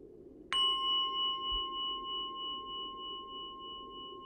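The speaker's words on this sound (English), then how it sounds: "Just pay attention to the sound of the bell." A single mindfulness bell is struck once during a guided meditation, a clear bright strike followed by a long, slowly fading ring with a gentle wavering pulse, heard alone in a quiet room.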